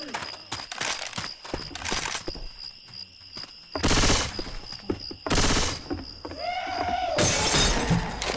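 Molotov cocktail shattering and bursts of rapid gunfire in the game Left 4 Dead 2, with loud crashes and clattering shots mixed with game noise throughout.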